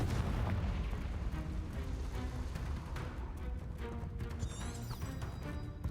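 Confringo fire spell blasting in Hogwarts Legacy, a dense rumbling crackle of explosions and combat noise that stays loud throughout with a brief bright whoosh near the end, no voices.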